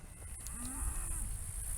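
Cattle mooing in the high desert ranch country of Idaho's Lost River Range, a single low drawn-out moo heard close and clear over steady outdoor background noise.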